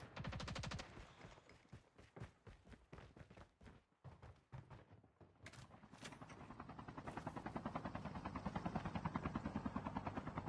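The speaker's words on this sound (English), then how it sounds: "Be advised, hostile stealth chopper inbound." A hostile stealth chopper in Call of Duty Mobile, its rotor thumping in rapid rhythmic pulses that slow, fade briefly, then return as a denser, steadier chop, mixed with game noise.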